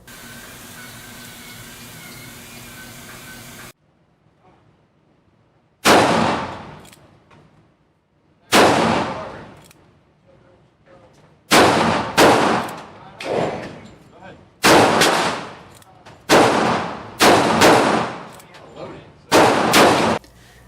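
A Ruger New Vaquero single-action Army-style revolver fires about nine loud, sharp shots outdoors, spaced a second or two apart with a steady rhythm quickening toward the end, after a brief stretch of background hum.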